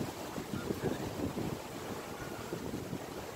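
Typhoon wind blowing outdoors in Hong Kong, a steady, rough roar buffeting close to the microphone with small gusty surges and no clear voices.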